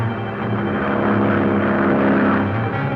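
Engine drone of an ambulance plane in flight, a loud, steady propeller hum filling the whole stretch with no break.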